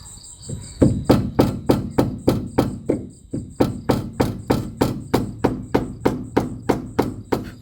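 A hammer strikes a chisel again and again to cut a hole in a car body for a spoiler. The blows are sharp, close and loud, with a steady, even rhythm that carries through the whole clip, and each strike rings metallically.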